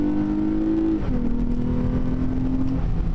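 A V6 car engine hums steadily and loud, its pitch dropping once early on and then holding, with no talking.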